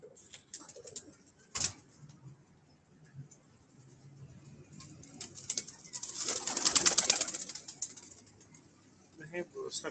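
Pigeons cooing softly in a rooftop loft, low murmuring calls mixed with rustling and clicks while people talk nearby.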